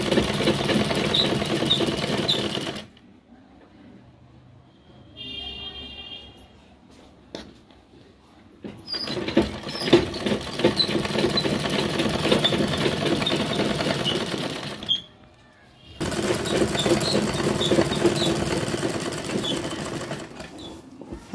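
A sewing machine stitches two layers of salwar fabric in long steady runs, loud and close, pausing briefly between bursts with quiet handling in the gaps.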